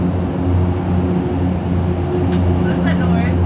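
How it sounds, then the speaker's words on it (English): Steady low hum of a road tunnel ventilation fan drawing out exhaust fumes, a constant droning tone with layered low harmonics heard from inside a moving vehicle, with faint voices in the background. "That's a fan to pull the exhaust fumes out of the tunnel so people don't die in here."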